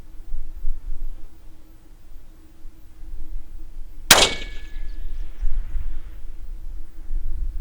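A 6.5 Creedmoor bullet strikes a big long-range steel plate target, giving one sharp metallic clang with a brief ringing tail over a low steady hum.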